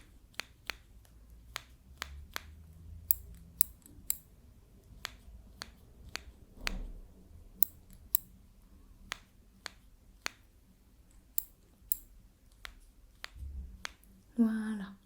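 Sharp scissor snips cut hair up close, arriving as crisp, isolated clicks at an irregular but steady pace, with a soft rustle near the end and no speech.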